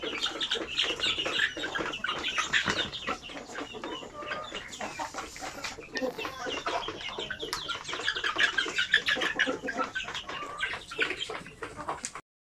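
A flock of chickens raised for sale by the kilo clucks in a dense, continuous chorus, loud and close, with occasional bursts of wing flapping among the calls.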